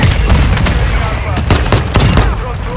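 A Semtex grenade goes off amid a video-game firefight, with booming blasts and bursts of gunfire crackling over a steady rumble of battle noise.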